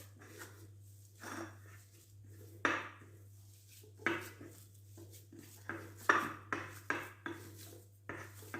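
A spoon stirs and mixes ingredients in a bowl for taco-shell fillings with meatballs in sauce, giving intermittent scraping clinks against the dish in irregular bursts, close and fairly quiet under a steady low hum, with no talking.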